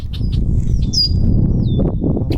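Several birds chirp and whistle high above a steady low rumble of outdoor noise at Majestic View Park in Arvada, where ducks gather, calls overlapping briefly.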